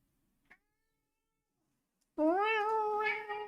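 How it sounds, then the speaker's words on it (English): A pet cat named Gooseberry lets out one loud, drawn-out meow close by after near silence, with a faint tiny click just before. "What are you meowing about?"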